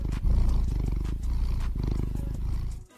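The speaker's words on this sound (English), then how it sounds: "Purring." A low, steady purr rumbles continuously for a few seconds, close and fairly loud, with slight pulsing rhythm before fading out at the end.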